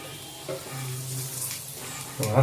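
Food frying in just a little oil in a home kitchen, a soft steady sizzle with low background hum and a louder burst near the end.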